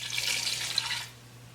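Liquid is poured into a pot of beef stew, making a brief rushing, splashing pour that is close and moderately loud for about a second before trailing off into quiet.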